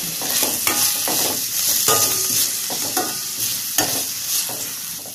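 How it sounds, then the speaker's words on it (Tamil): Onions and curry leaves sauté in a pan, a steady close sizzle broken by repeated scraping stirs through the whole stretch, with no talking. "இதோட கருவேப்பிலை சேர்த்துடலாம். இது வந்து ஒரு 5 நிமிஷம் நல்லா வதங்கட்டும்."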